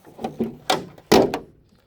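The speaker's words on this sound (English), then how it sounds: "Doors closed without fuss." Passenger-side door of a Land Rover Series 3 109 shutting: a couple of soft knocks and rattles, then a firmer solid thunk of the metal door closing nearby, no voices.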